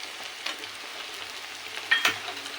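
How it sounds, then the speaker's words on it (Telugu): Onions frying with ginger garlic paste for an egg and drumstick curry, a soft steady sizzle with occasional stirring scrapes, close and quiet with no talking. "ఇది పచ్చివాసన పోయేంత వరకు కూడా ఫ్రై చేసుకోవాలండి"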